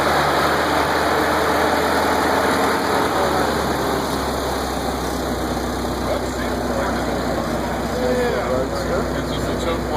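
1925 Dodge car engine idling steadily while warming up at an outdoor Dodge 100 celebration at a museum, a continuous low rumble with a constant background wash.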